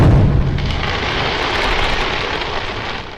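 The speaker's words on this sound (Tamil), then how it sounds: "அத்தோட வான வேடிக்கை மேல இங்க நடக்குது." Fireworks at an outdoor religious gathering, a loud deep boom at the start followed by a rolling rumble and crackling wash that slowly fades.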